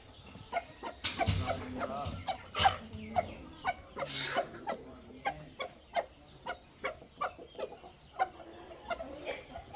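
On a farm, a rooster and fowl make a run of sharp, rhythmic clucking pulses, close and fairly loud, with a few louder squawks early on.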